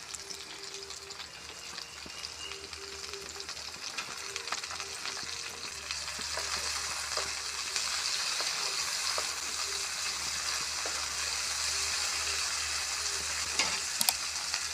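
Tomatoes and green chillies fry in a pan for a cauliflower masala curry, giving a continuous close crackling sizzle that swells slightly midway, with occasional utensil taps and stirring scrapes and no talking.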